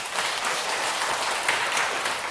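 Audience applause at a Buddhist lecture hall, a brief, even burst of many people clapping together, dense and continuous, with no talk over it.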